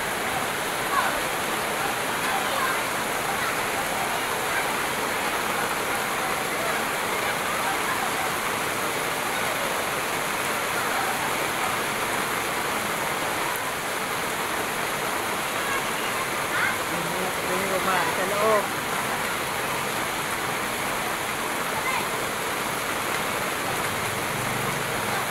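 Heavy rain pours down steadily for the whole stretch, a dense unbroken hiss of water close by where children are out in the downpour, with no clear voices.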